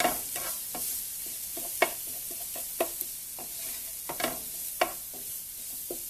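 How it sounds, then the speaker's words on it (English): Sugar snap peas, shrimp and pork loin stir-fry in a pan with a constant sizzle, punctuated by repeated sharp taps and scrapes of a utensil against the pan. "So what are you getting ready to stir fry now, besides what you just put in?"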